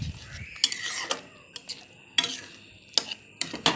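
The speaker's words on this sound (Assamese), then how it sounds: "এতিয়া মই মছলাখিনিতে এয়া বিলাহী, আলু আৰু বুটৰ দালিখিনি উলিয়াই ভাজি লৈছোঁ অকণমান।" Tomatoes, potatoes and chana dal fry in spices in a pan, with a spatula stirring and scraping in sharp, irregular metallic clinks over a quiet background hiss.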